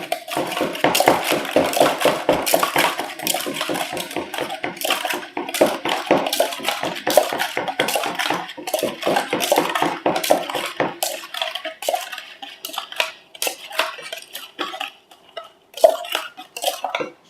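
A spoon clinks rapidly and repeatedly against a bowl while stirring seasoning powder into fish sauce, a dense run of sharp metallic taps that thins out toward the end.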